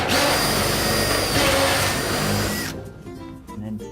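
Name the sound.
power drill re-drilling a roof hole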